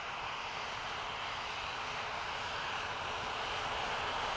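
A B-58 bomber jet streaks past low and fast over terrain near the speed of sound, a loud, steady roar of engine noise and rushing air filling the whole stretch with no letup.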